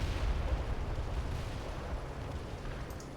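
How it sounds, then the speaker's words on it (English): Heavy artillery barrage in World in Conflict, heard as a continuous low rumbling roar of distant impacts, steady and dense throughout with no talking. "this is a heavy artillery barrage that I'm calling in right now"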